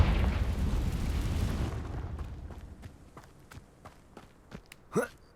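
A Confringo fire spell bursts in Hogwarts Legacy as a loud rumbling blast that fades over about two seconds, followed by scattered quieter footsteps and a sharp final thud.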